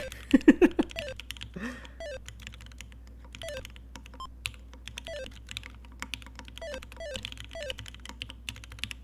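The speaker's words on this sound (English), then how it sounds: "I'm not typing anything consistent because I'm typing all these dumbass words" A computer keyboard being typed on at an irregular pace, with light clustered key clicks and occasional pauses, heard up close. A brief vocal sound occurs near the start.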